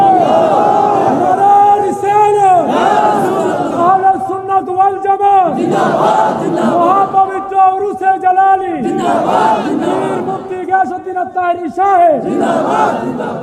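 A large religious gathering shouts the takbir in unison, answering a preacher's call. It comes as loud, repeated waves of massed voices, several rhythmic bursts rising and falling across the stretch.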